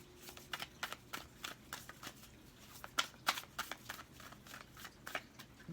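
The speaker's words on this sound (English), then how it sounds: "we're going to shuffle for you 3 more times" Tarot cards shuffled by hand during a reading, a quick series of soft riffling flicks and taps in uneven bursts, close and quiet with no talking.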